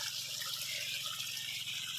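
Irrigation water pumped onto a calamansi farm flows strongly in a steady, faint, even hiss with no break and no voices.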